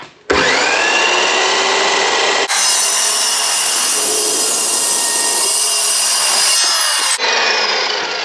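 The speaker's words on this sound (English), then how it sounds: "Let's see if this blade's got a couple more cuts in it." A power saw blade cuts metal during tractor accessory fabrication, a loud continuous grinding whine that shifts pitch partway through and runs close and alone with no talk.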